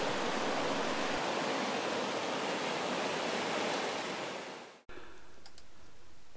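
The River Itchen rushes past the old town mill in Winchester with a dense, steady roar of flowing water that fades out abruptly, followed by a quieter stretch of softer water noise.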